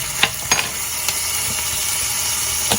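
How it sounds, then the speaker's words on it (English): Garlic sizzles in a pan over moderate heat while cooking for sun-dried tomato shrimp pasta, giving a steady close hiss with a few light stirring taps and clinks. "We're going to cook this just until it sizzles a little bit."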